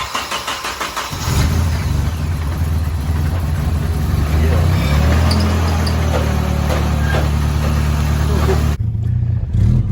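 A Nissan 240SX fitted with an Injen intake cranks and fires up close by, settling into a loud, steady idle with a few rising revs before the sound cuts off abruptly.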